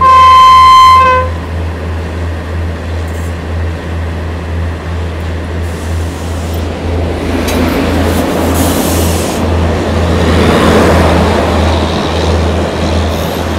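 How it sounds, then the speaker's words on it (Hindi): A Kanpur–Kathgodam Garib Rath train with LHB coaches comes in fast, its horn sounding loud at first before a steady rolling rumble builds and swells louder as it nears. "फिलहाल में बहुत तेज़ी के साथ सामने गाड़ी आ रही है"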